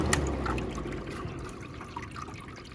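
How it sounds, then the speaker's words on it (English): Water trickles and splashes steadily inside a Hessaire MC18m evaporative air cooler running with low water. It is a soft, continuous wash of dribbling and gurgling noise with no voices. "Now it doesn't make that water trickle noise if the water level was fine"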